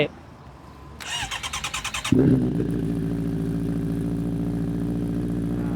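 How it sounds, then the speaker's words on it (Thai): A Honda CBR650R starter whirs for a second, then the engine fires through a titanium slip-on exhaust with a deep throaty bark and settles into a steady, rumbling idle up close. "เดี๋ยวเรามา ฟังเสียง ท่อเสียงเครื่องยนต์กันดีกว่าเนาะ"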